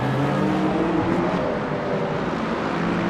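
A race car engine in the Le Mans Ultimate sim, running the 8 Hours of Bahrain while closing on a BMW through turn 10, holds a loud, steady, unbroken drone throughout.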